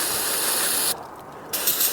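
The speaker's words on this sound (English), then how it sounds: "spray out a whole can of this stuff than it is to buy new coils." A steady, loud aerosol hiss as a can is sprayed out on a 2011 Hyundai Elantra's coils, continuous, cutting out briefly, then resuming in short bursts.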